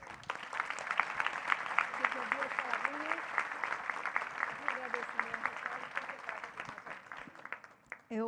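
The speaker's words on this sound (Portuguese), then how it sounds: "o professor Ambrosio já pediu uma salva de palmas para a Cândida" Audience applause after a lecture on planetary citizenship, dense sustained clapping from many hands at an even level, with a voice breaking in at the very end.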